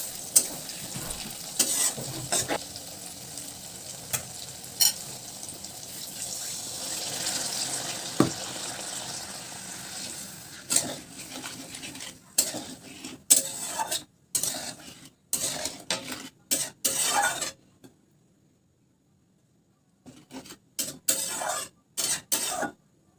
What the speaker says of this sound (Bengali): এখন আমি সবজিতে দিয়ে দেব অল্প একটু জল সবজিটা একটু ভালো করে নাড়াচাড়া করে নিচ্ছি